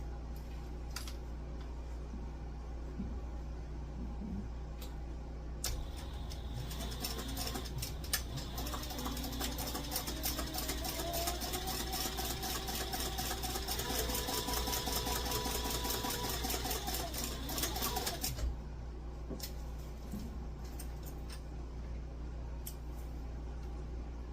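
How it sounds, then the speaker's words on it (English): A sewing machine stitches a long seam across a satchel, a steady, close mechanical whir lasting over ten seconds, with softer clicks and handling noises before and after. "we're going to sew at 1/8 of an inch all the way across here"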